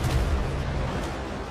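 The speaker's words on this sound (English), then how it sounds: "let me go with you with my chase cannons" Chase cannons on a sailing ship in the video game Windrose boom in a dense, continuous rumble, loud and close with no talk over them.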